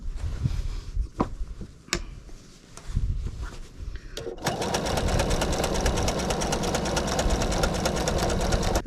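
Sewing machine stitching a pillowcase seam: a few light taps and handling noises, then the motor starts and runs a steady fast needle rhythm for the last four seconds, close and prominent.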